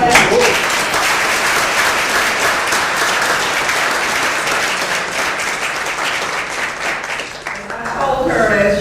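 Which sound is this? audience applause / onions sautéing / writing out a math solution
audience applause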